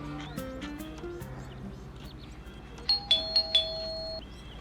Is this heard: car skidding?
no